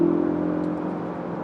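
Cabin noise inside a moving Ford Focus RS with a 2.3-liter EcoBoost four-cylinder, a steady low engine drone and road hum, fairly loud and constant, with no talk.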